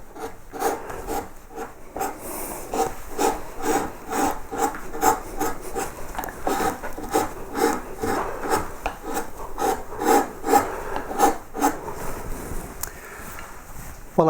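Hand carving tool skimming a wood surface, producing continuous close rasping and rubbing strokes in a steady, repeated rhythm with no talking.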